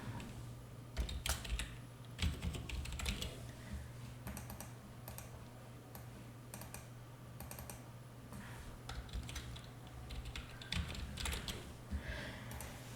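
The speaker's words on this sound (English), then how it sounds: "Then let's type in something different." Typing on a computer keyboard while working in Canva: quiet, irregular clusters of light key clicks over a faint steady hum, close by and with no voices.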